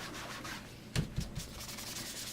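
A sponge is rubbed over paper to lay down ink for watercolouring, giving a close, continuous soft scrubbing with a couple of sharper dabbing thumps midway, no voice.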